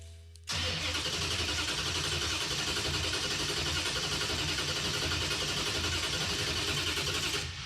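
A 1975 AMC Gremlin engine cranks briefly, then catches and runs steadily at close range, a continuous loud mechanical drone with no voices over it.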